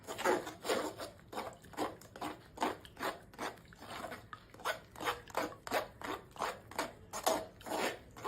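Amla juice is worked through a kitchen strainer with repeated rhythmic scraping strokes, roughly two per second, close and fairly quiet with no talk.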